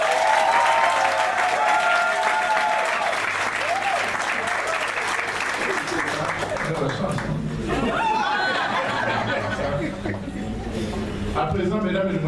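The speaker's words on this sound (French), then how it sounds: "Veuillez applaudir, s'il vous plaît." Guests applaud at a civil wedding ceremony in a town hall, sustained clapping mixed with chatter and some laughter from the room throughout.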